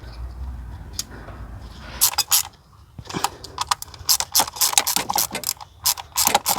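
A wrench tightens valve cover screws to 5 newton meters on a car engine during an N20-to-N26 swap. Sharp metallic ratchet clicks come in quick close bursts, with brief pauses between the runs of clicking.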